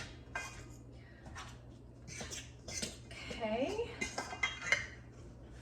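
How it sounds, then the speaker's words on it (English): Raisins are worked into Irish soda bread dough in a bowl, giving a run of clinks and scrapes that grows busier toward the end, with a brief spoken word at the start. "So we're going to mix those raisins in."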